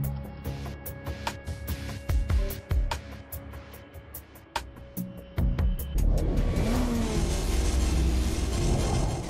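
Monster truck engine in the Split/Second racing video game, with clicks and thumps giving way to a loud sustained engine roar and rev in the second half.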